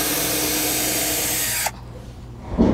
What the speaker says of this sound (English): So just get that in place and drill down.